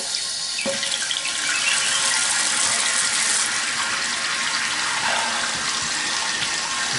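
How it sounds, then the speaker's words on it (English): Water refills a toilet tank after the supply is turned back on, a continuous hissing, splashing rush that stays steady and fairly loud with no talking. "Okay, we're ready to turn the water back on."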